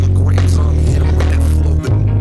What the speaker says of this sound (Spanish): Para un 808 meterle esa distorsión, brutalísimo.